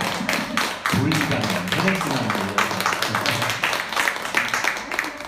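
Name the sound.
audience clapping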